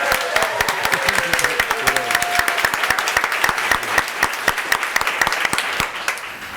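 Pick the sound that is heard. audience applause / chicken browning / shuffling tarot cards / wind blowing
audience applause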